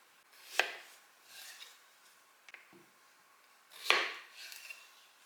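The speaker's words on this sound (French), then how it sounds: "Comme elles sont assez petites, je vais soit les couper en 2, soit les laisser entières." Knife cutting small washed potatoes on a board, with two distinct close chops about three seconds apart and a few faint taps and handling sounds between them, in a quiet room.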